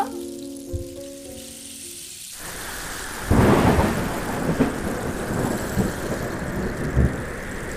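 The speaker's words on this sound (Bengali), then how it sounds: "এখন ঝড় শুরু হলো বলো তো? এই ঝড় তো থামবে বলে মনে হয়নি।" A cartoon thunderstorm breaks in after a short musical phrase, with a loud thunder crack followed by steady heavy rain that keeps pouring to the end, a few softer rumbles within it.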